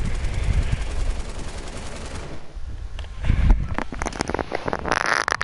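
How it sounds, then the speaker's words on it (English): Light machine gun firing in a video game: rapid bursts of gunfire crackling over a rumbling, windy background, growing sharper and denser in the last few seconds. "You mean the light machine gun?"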